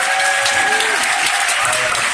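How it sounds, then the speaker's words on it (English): A bookstore author-event audience bursts into dense, sustained applause, loud and continuous, with a few voices calling out under the clapping. "I think deserves some applause."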